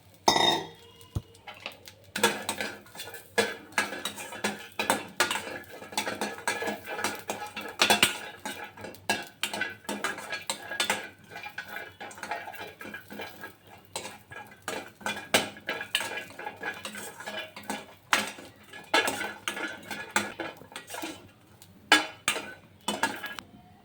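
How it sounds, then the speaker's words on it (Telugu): Dry coconut roasting in a pan while a spatula scrapes and clinks against the metal, sharp irregular scraping and tapping close up, continuous with no talk, for a mushroom curry masala. "కొబ్బరి కూడా వేయించుకుందాం కొద్దిగా"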